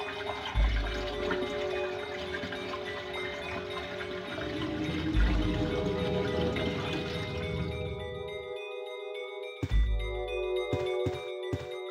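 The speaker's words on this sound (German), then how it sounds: "lassen das schmutzige, schmutzige Wasser aus der Wanne" Dirty water drains from a bathtub in Resident Evil with a steady gurgling pour that fades out, followed by a few sharp game sound effects.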